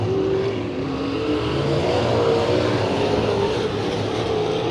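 A race truck in a Rocky Hill Speedway heat race roars past coming out of turn four. The loud engine snarl holds steady with a rising and falling pitch as it sweeps by, and no one talks.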